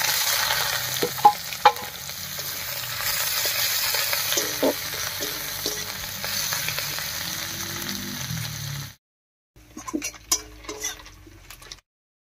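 Chopped onions fry in hot oil with dry red chilli, whole garam masala and cumin seeds, giving a steady close sizzle with spatula stirs, then a brief silence and a few scraping stirs.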